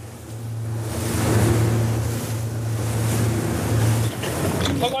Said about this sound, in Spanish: Se nos acerca una lancha de la policía.